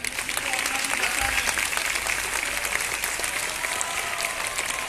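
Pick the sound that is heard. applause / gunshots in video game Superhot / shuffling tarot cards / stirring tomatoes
applause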